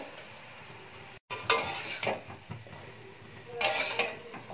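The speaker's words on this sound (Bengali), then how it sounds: "এবার এটা ভালোভাবে মিশিয়ে এটা একটু ঢাকা দিয়ে দেব" Lau shak (gourd greens) being stirred in a pan with utensil scrapes and clinks, then a lid set over it, with soft sizzling on low-to-medium gas; a couple of brighter metallic bursts stand out over a quiet cooking background.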